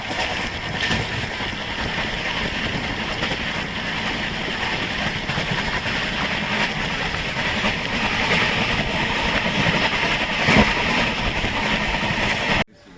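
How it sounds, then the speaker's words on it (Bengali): Steady rumble and rattle of the Darjeeling Mail train pulling into Barsoi Junction, a continuous mechanical drone that holds level throughout and cuts off abruptly at the end. "আমাদের ট্রেন এসে দাঁড়ালো বারসই জাংশনে"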